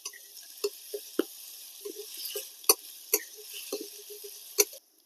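Chopped garlic and ginger fry in a pan while being stirred, giving sporadic sharp scrapes and clicks over a faint, steady sizzle, close and alone.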